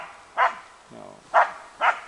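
Cesar, a two-year-old bear-hunting dog, barks three times in sharp, loud bursts spaced about a second apart, with a softer low whine or growl between the first two.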